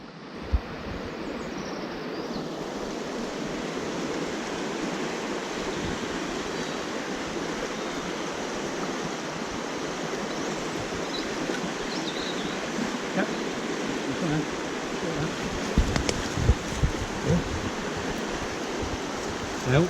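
A lovely little trout river in Pembrokeshire flows with a steady, broad rushing wash of water. The sound holds at an even level and continues alone with no talking.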